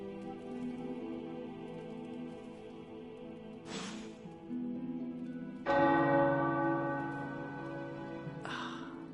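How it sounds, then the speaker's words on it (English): Large tower bells in the video game Marvel's Midnight Suns ring out with resonant strikes, three distinct clangs spaced apart, each leaving a long humming decay that lingers. "The tower bells are ringing."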